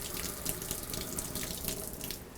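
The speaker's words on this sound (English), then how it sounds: "just let the flow run in there" Water from a Grohe Euphoria exposed shower system's thermostatic valve runs steadily into a cup during calibration, a close, continuous splashing rush with no voices.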